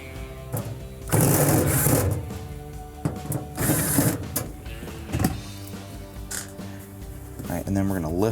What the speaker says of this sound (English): There's gonna be 4 Phillips screws to remove.